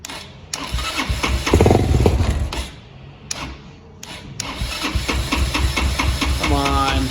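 A go-kart buggy engine is cranked to start in repeated bursts of whirring, sputtering starter noise broken by short pauses, close and fairly loud, with a brief voice near the end.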